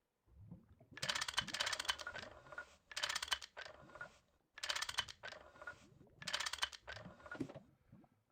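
Repeated mechanical clicking and ratcheting from a wrench working on pipes in the GT New Horizons Minecraft modpack, four dense bursts of rapid clicks separated by short gaps, close and fairly loud.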